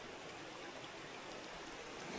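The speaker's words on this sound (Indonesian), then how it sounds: "Wah. Hujan." Faint, steady rain hisses evenly outdoors at a fishing spot, a soft constant wash with no distinct drops or voices.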